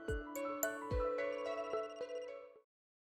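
A melodic electronic phone ringtone from the video game Another Code: Recollection plays a short bright tinkling tune with a few sharp accents, clear and alone, then cuts off into silence.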